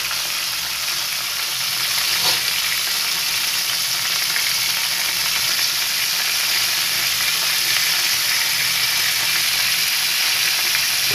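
Jollibee-style fried chicken sizzles steadily in hot oil, a dense, continuous crackling hiss that stays loud and even throughout with no voices.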